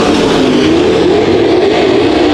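Race cars roar around Bakersfield Speedway, a dense, loud, continuous engine drone from several cars racing together with no break.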